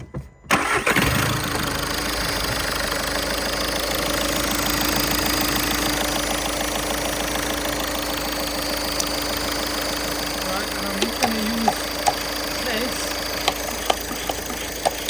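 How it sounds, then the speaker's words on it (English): A diesel car engine cranks and catches with a sharp start, then settles into a steady, rattly idle that runs on, with a few faint clicks. "So please have the engine running. In this case, I'll show you, so we can turn the engine on."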